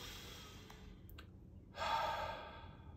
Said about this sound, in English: Please join me for the snuggle breathing meditation with an extra special breath for the unicorns. Breathing in, I breathe for me.